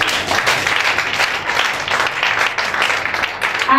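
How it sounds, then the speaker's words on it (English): A church congregation claps together for Jesus in a dense, continuous round of applause that holds steady throughout, with some voices mixed in. "Let's clap for Jesus."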